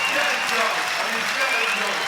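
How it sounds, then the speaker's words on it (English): A crowd at a beach volleyball final in Québec claps steadily in dense, sustained applause, with a commentator's voice running over it. "Crowd appreciating it."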